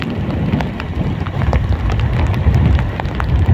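Steady, dense heavy rain pours down in Alang, with drops pattering constantly on a surface and a low rumble underneath.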